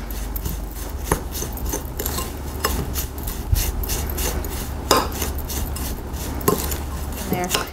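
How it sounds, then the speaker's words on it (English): Spoon stirring an artichoke paste mixture in a bowl, close scraping and clinking strokes repeating irregularly over a steady background for nearly eight seconds, with no talk. "I'm just gonna grab a spoon, and then you stir up your mixture."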